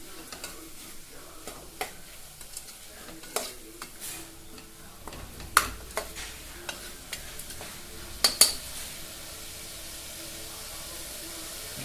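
Chili powder is stirred into a tomato millet-rice masala in a pan, producing a low steady sizzle punctuated by irregular scraping clinks of the spoon, some louder knocks midway, heard close with no speech.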